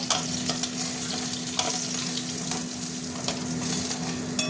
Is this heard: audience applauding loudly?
no